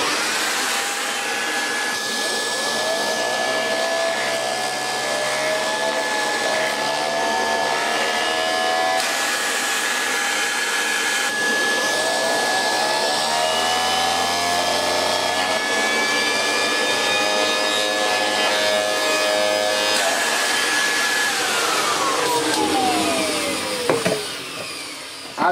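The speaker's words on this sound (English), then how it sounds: "And indeed the turbo sander also works quite well." A 1989 Kirby Legend 2 vacuum cleaner runs with its turbo sander attachment on the hose, giving a steady loud whine with a sustained high tone that drops away near the end, with rubbing scrapes over it.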